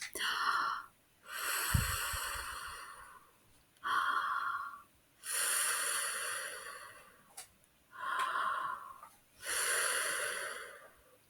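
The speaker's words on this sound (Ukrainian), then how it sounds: "зробили глибокий вдих і дмухаємо на нього, щоб він остих і можна було пити" Children take repeated deep breaths and blow out hard, as if cooling imaginary tea, in a classroom setting; about three long inhale-and-blow cycles alternate rhythmically, close and clear, with no talk.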